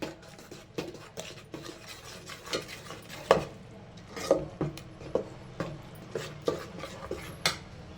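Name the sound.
stirring and frying spice powders in a pot for fish sambar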